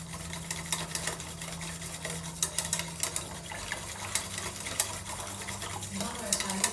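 A cornflour and cocoa powder mixture is stirred into hot milk in a pot, soft swishing and light scraping with small clinks, fairly quiet and close, with a low steady hum beneath.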